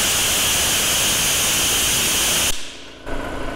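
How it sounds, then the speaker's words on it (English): Craftsman 30-gallon dual-piston air compressor running loud and steady at close range, then cutting off abruptly, leaving a quieter hiss and hum. "You'll hear the compressor kicked off."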